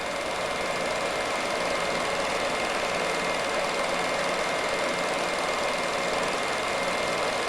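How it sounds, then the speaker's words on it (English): Compressor plant machinery at a coal mine runs with a steady, dense mechanical roar and hum, unchanging and continuous throughout, with no voices. "It's the compressor plant."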